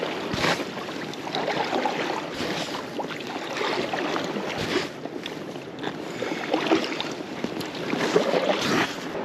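A kayak is paddled through cold water in Alaska toward a glacier, with soft irregular splashes and dips of the paddles under gusting wind, fairly close and moderate in level.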